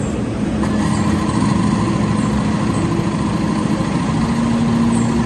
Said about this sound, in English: hold X to start the engine